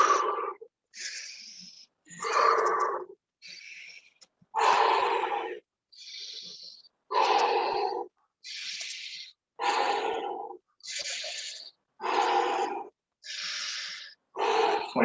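Deep, forceful breaths in and out during a workout breathing drill, each one loud and close, repeating in a steady in-out rhythm with brief silences between.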